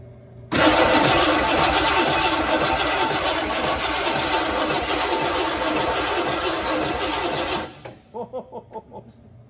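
An abandoned 1969 Lincoln Continental's engine is cranked over, a loud close grinding starter whir that runs several seconds, then cuts off and is followed by a few slower, fading cranking pulses.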